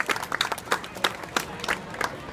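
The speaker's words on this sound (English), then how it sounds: "you all deserve a round of applause" Sparse, uneven clapping from participants at an outdoor Alzheimer's fundraising walk in Coney Island, Brooklyn. Individual claps ring out at a moderate distance with a faint crowd murmur behind.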